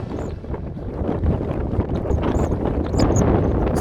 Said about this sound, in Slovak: Máme tu extrémne silný vietor, trochu poprcha